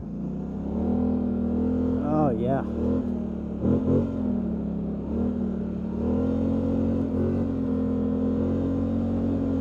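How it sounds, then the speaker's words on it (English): An overheating Polaris Sportsman 1000 XP ATV coasts off the throttle, its engine droning steadily up close while pitch wavers and sags as it slows, with a voice briefly heard over the running motor. "I'm gonna let off the throttle and we'll see how good she coasts."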